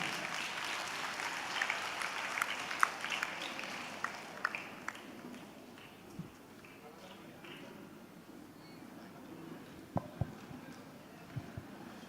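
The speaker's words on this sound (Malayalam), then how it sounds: "ഒരു നല്ല കൈയടി എല്ലാവരും ഒന്ന് ഒരുമിച്ച്" At an MSF constituency conference in Pattambi, an audience claps in a steady burst of applause that fades over several seconds, followed by scattered single claps and a few sharp knocks.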